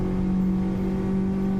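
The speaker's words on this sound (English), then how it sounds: "get the revs up" Race car engine in a Toyota Cup racing video game at Fuji, held at high revs before the start, a loud steady droning whine with no talk.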